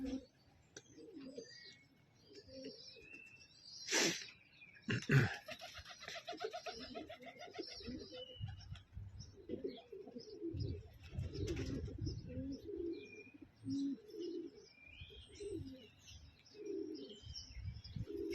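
Pigeons coo softly among scattered chirps and flutters, with a couple of sharp louder bursts early on; fairly quiet, close-by outdoor ambience.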